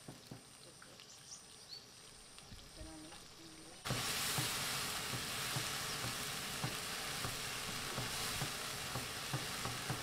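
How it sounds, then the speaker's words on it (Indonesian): Ground spice paste frying in a pan, a quiet crackle that jumps to a steady, louder sizzle partway through, with occasional stirring scrapes and no talking. "Kemudian masukkan bumbu halusnya tadi dan masak sampai tanak ya teman-teman."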